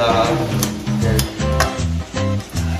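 Pasta agli olio with sardines being stirred and tossed in a pan, producing repeated rhythmic scraping and sizzling strokes close up, with no talking.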